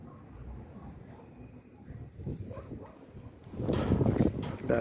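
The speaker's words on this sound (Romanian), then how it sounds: "Bate vântul cam tare" Gusting wind buffets the microphone in low, rumbling bursts around a poultry yard, growing much stronger and louder toward the end, with no voices.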